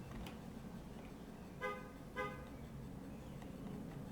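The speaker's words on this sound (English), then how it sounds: "Did you hear the car beep," Car horn in the theme-park building game Planet Coaster, two short beeps about half a second apart, faint over a steady low background hum, with no talk.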